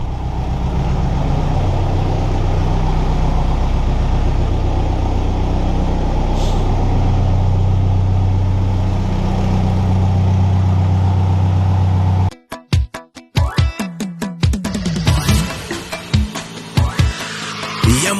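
A 1991 Mazda Titan truck engine idles after starting, a loud, steady low drone with a humming tone, then it abruptly gives way to sharp, irregular clattering bursts.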